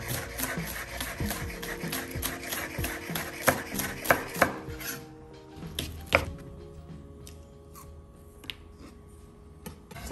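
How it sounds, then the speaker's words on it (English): A knife chops vegetables roughly for a veggie broth on a cutting board with quick, close, irregular taps, then slows to scattered single strikes. "I'm gonna end up chopping these roughly, so we're not gonna slice them"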